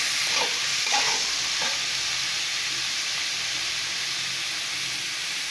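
Banana stem cooking with curry masala in a pan, with a steady close frying sizzle and hiss and a few scraping stirs near the start, no voices.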